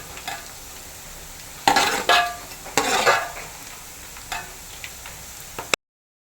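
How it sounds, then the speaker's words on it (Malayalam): Beef pieces deep-fry in oil for Kerala-style beef pickle, a steady low sizzle broken by several louder bursts of stirring and scooping with a metal utensil against the pan. "ഈ ഒരു പരിവാകുമ്പോൾ കോരണം ഒരുപാട് അങ്ങ് ഫ്രൈ ആയി കട്ടിയാകണം"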